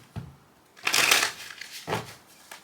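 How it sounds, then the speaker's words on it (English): A tarot card deck being shuffled by hand in a couple of quick riffling bursts, a short crisp flutter followed by a longer papery riffle and a brief final rustle, close and moderately loud with no talking. "Let me just go ahead and do a quick shuffle"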